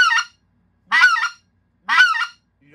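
Three loud, evenly spaced honking notes blown on a specklebelly goose call, each a short, sharp, reedy yelp with clear silence between them.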